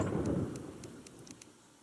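Thunder crash from a storm in the video game Terraria, a loud rumbling burst at the start that fades over about a second, with faint rain-like ticks trailing behind.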